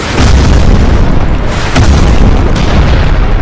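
A tank shell explodes on the player in the video game Crysis Remastered, a dense, very loud rumbling boom that saturates the sound and rolls on continuously with low-end roar for several seconds.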